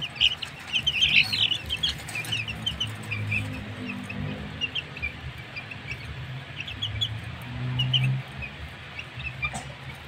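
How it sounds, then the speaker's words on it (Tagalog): Young kanaway gamefowl chicks, a few weeks old, peep and cluck in soft overlapping bursts, close by, with a low rumble in the background. "Yan ang bago naming sisiw mga kasabong."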